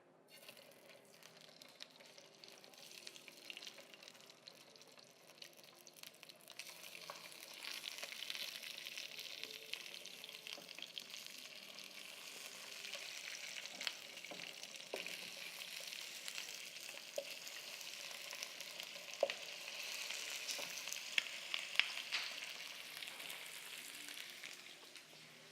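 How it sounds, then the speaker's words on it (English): Turkey wings fry in a hot pan with a steady, crackling sizzle that grows louder after the first few seconds, broken by occasional sharp pops and scraping clicks, close and continuous. "So our pan is hot now. So I am going to go ahead and add my turkey wings."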